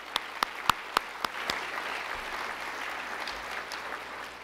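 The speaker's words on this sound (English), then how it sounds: "Please give all of them a round of applause as well" Applause from the audience at a city's State of the City address, opening with a few sharp, separate claps near the microphone before spreading into a soft, steady patter of many hands further off.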